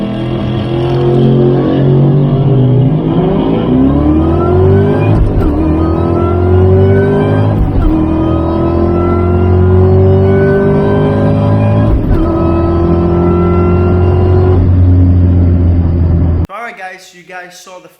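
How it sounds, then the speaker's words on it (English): Ford Mustang Cobra Terminator launching down a quarter-mile drag strip, its engine roaring loud and close through rising revs with several gear changes, then cutting off abruptly near the end. "So when I launched the car, I wasn't as aggressive as I wanted to be"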